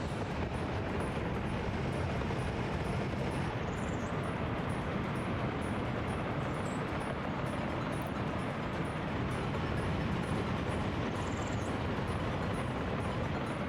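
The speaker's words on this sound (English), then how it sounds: "Now let the train do its job efficiently as we export 150 tons of coal." A coal train runs on a railway in the game Workers & Resources, giving a steady, dense rumble that carries on without a break for the whole stretch, with faint high squeaks on top and no talk.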